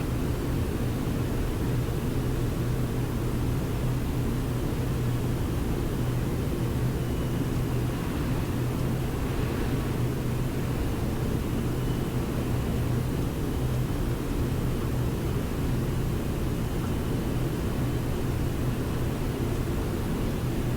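Steady, loud roaring engine and airflow noise fills the cockpit of a Georgian Airlines Boeing 767-300ERF freighter during takeoff from Tbilisi, a dense unbroken rumble with no distinct events.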